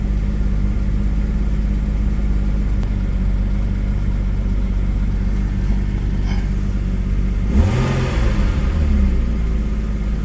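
A Porsche 993 engine, freshly serviced with an oil change, drones steadily at idle and then rises briefly in a short rev and settles back, loud and close with no talking.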